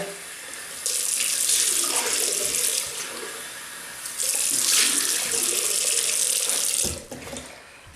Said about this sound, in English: So I'll just rinse off with warm water.